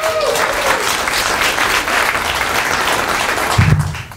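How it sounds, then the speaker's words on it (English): An audience at a comedy show applauds, a steady wash of clapping from a crowd that keeps going and swells slightly near the end. "Put your hands together for David Gamble."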